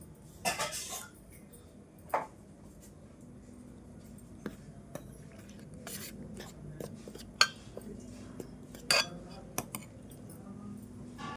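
A spoon stirs ragi flour in a bowl, giving faint, scattered clinks and taps against the dish amid quiet background, with irregular sharper knocks spaced every second or two.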